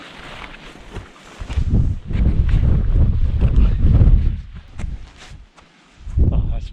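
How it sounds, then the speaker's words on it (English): Gusty wind on an open, rocky ridge of Dartmoor, buffeting the microphone in loud low rushes that swell and fade, with brief lulls between gusts. "Is that the wind?"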